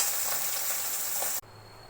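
Hilsa fish fries in a pan with a loud, steady hiss that cuts off abruptly partway through, leaving a quieter background hum.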